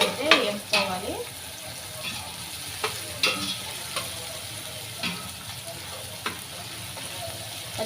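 Ginger-garlic paste frying in a pan, a soft steady sizzle broken by a few sharp scraping stirs near the start and brief clinks of a utensil through the rest, close and moderately quiet.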